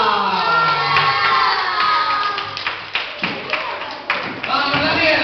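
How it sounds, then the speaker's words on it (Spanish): At a year-end gala in Camariñas, an audience cheers and applauds with loud clapping, shouts and children's voices, mixed with talk over the crowd. "un aplauso para Daniela"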